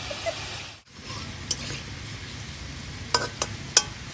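Potatoes frying in a hot pan in a home kitchen give a steady low sizzle throughout, broken by a brief dropout and a few sharp scraping and stirring clicks near the end.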